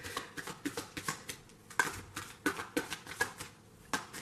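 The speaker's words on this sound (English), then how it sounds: "once I get done shuffling the deck" A tarot card deck shuffled up close in quick repeated riffles, crisp papery flutters coming in bursts roughly every half second, with no voices.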